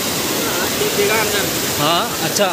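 Water rushing forcefully through a hillside village channel in Bageshwar, Uttarakhand, a loud continuous roar close by, with a voice talking over it.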